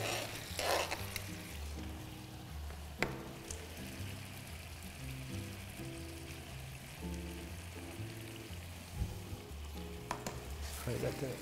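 Lobster meat sizzling and frying in a pan of tomato sauce, a steady close crackle that runs throughout with a few brief louder pops and clatters.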